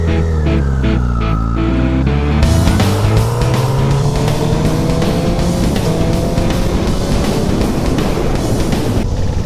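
Honda CBR1000RR sportbike engine under way, a loud, steady roar with rising and falling revs through gear changes, continuous and close with wind rush, no talking.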